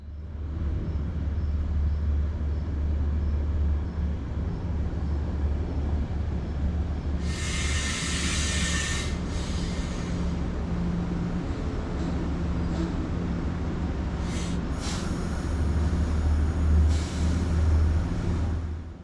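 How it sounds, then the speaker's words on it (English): MTA commuter train 1897, cab car leading with marker lights on, rumbles to a stop at Merritt 7 station at night: a steady low rolling drone with brief hissing air-brake bursts partway through. "With the marker lights still on the cab car, train 1897 comes to a stop at the Merritt 7 station."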